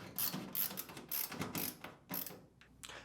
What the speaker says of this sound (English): Next, reinstall the 4 screws.